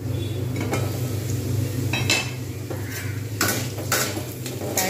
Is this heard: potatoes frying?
yes